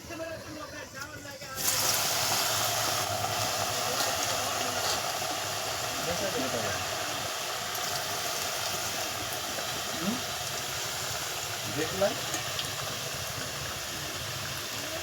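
Pakora batter dropped into hot oil: a sudden onset of loud, steady sizzling and crackling that fills the rest of the stretch close by, with a few pops and scrapes within it.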